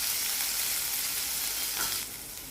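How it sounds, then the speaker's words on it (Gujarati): Cumin, asafoetida and finely chopped green chillies sizzle steadily in hot ghee, a close, dense frying hiss that eases slightly toward the end, with no voices. "ઘી ગરમ થાય એટલે જીરું તતરે એટલે હિંગ, ઝીણા કટ કરેલા લીલા મરચાં"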